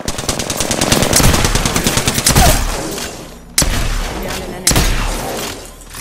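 Automatic weapon fire in the battle-royale shooter Apex Legends rattles in a rapid sustained burst, followed by two sharp single booming shots, loud and close.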